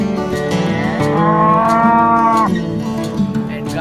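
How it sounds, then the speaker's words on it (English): A toy cow lets out a long, loud, tonal moo that rises and holds, then drops into a lower, wavering tail. The moo is heard alone. "cow, beautiful cow, very beautiful cow"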